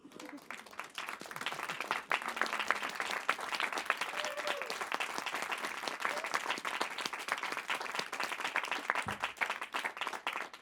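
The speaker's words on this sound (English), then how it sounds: "let's give everybody a warm round of applause" Warm, steady applause from a large audience at a climate event closing session in Davos, a continuous wash of clapping lasting the full length, moderately distant and even in level.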